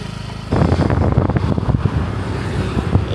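A motorcycle rides along in Cameron Highlands with a rising engine drone and wind rushing past the microphone, loud and close throughout.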